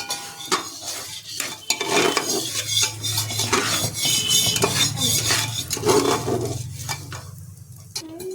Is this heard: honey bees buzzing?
no